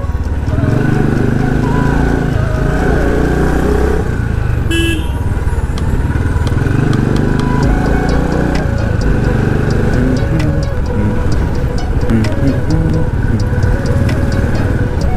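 A motorcycle engine runs steadily throughout, a continuous rumble with a brief horn-like toot partway through and people talking faintly over it.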